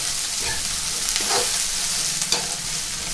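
Soybean and besan curry frying on full flame while being stirred, a loud continuous sizzle with a few scraping stirs of the spoon, close and unaccompanied by talk.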